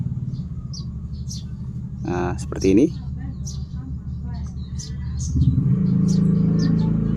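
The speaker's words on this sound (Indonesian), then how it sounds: "Maaf ya kalau ada suara-suara motor lewat karena reviewnya di jalan ini" Someone talks while low engine rumble of passing motorcycles swells and fades nearby, one growing louder toward the end; a brief high squeak cuts through.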